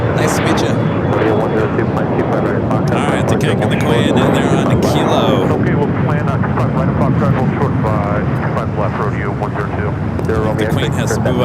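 An Airbus A320 airliner departs at LAX, a loud, steady jet roar filling the air while people talk over it throughout.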